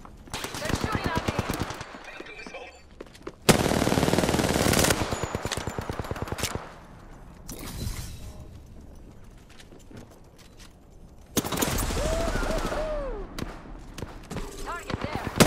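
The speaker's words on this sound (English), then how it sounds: "They're shooting at me!" Video game gunfire in bursts: rapid machine-gun rattles come in loud, dense stretches, separated by quieter passages of mixed game sounds, with talk in between.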